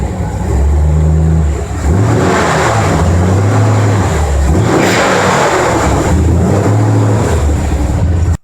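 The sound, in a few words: Ford F100 truck with 289 engine starting up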